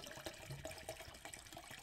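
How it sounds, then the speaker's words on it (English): Water being poured at close range, a faint, brief trickle with small splashy ticks and gurgles, heard alone without talk. "Sorry, I'm pouring water."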